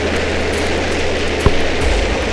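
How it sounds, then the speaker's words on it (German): A jetpack roars continuously in Goat Simulator, a loud, steady engine-like rush with a brief thump midway and no speech. "Jetpack!"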